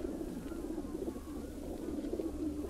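A pigeon with a damaged, broken leg coos in a low, steady, murmuring drone, close by and continuous, with a few soft rising notes.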